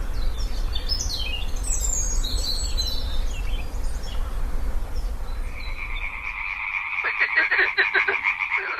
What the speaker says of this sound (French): C'est la nuit que la rainette se rapproche de l'eau et émet son cri si caractéristique.